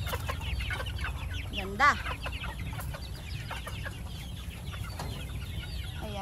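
Free-ranging White Kelso battle cross hens cluck softly at a distance over steady outdoor background noise, with one louder rising call standing out and a voice speaking briefly.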